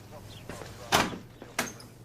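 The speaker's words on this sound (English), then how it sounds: "And close the door." A door is closed in a police station, a couple of sharp, close thuds against quiet room tone with faint movement around them.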